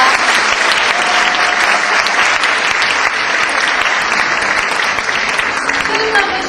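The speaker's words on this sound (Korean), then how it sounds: "뜨거운 박수로 축하해 주시기 바랍니다." Loud, dense applause from the audience at a university debate competition award ceremony, continuous and even clapping that fills the room for several seconds.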